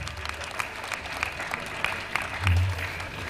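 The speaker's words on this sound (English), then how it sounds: "Let's give Baba a big round of applause." Audience applauding for Baba at a public address, a steady patter of claps filling the space after the announcement, with no talk over it.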